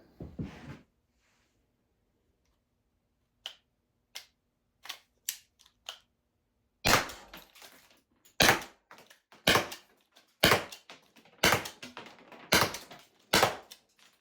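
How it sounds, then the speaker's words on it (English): A Byrna LE launcher fires several rounds in quick succession, each a sharp, loud pop close by. Fainter clicks come first, then a run of evenly spaced shots. "Now I'm going to shoot these fairly quickly."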